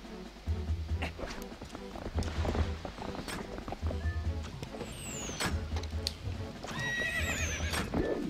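The horse Epona in the video game Zelda Twilight Princess neighs and trots, with rhythmic clip-clop hoofbeats, a whinny near the end and background game music.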